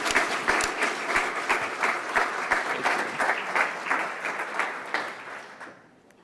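An audience applauding to welcome a speaker at a University of Delaware symposium, a steady run of many hands clapping at close range that fades out over the last second.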